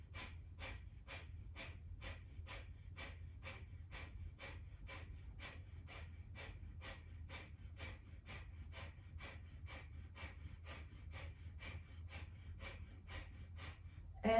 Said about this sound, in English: begin one more time the breath of fire